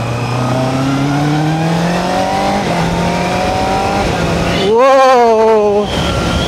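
Honda CBR650R motorcycle riding in first gear without using the clutch, engine droning steadily with pitch slowly rising, then a brief sharper rev surge near the end, loud and close throughout.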